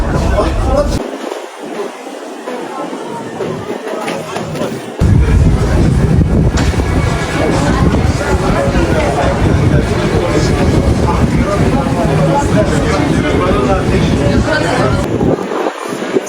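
An M2 metro train rumbles steadily across the Golden Horn Metro Bridge in Istanbul, wind buffeting the microphone, the roar swelling midway and holding loud; voices murmur faintly in the background.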